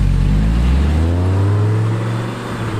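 An Audi R8 pulls hard under acceleration, its engine a loud, steady, close drone with rising harmonics across the whole stretch and no voices.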